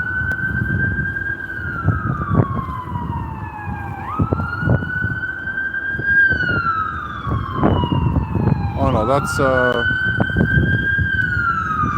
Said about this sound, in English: It's just not an ambulance, it's just an EMS vehicle.